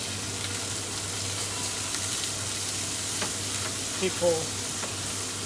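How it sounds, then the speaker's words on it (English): Crushed garlic, chili and anchovy frying gently in a small pot, giving a steady, even sizzle that holds throughout with a few faint clinks and a brief stir near the end. "Here I go like a little pot with some crushed garlic, chili and anchovy inside, and then we'll let it cook and melt gently."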